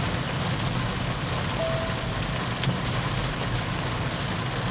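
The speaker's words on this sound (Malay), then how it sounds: "hujan agak lebat sekarang ni" Heavy rain drumming steadily on a Proton S70 while driving, a dense continuous wash of drops over low road and engine rumble, with no talking.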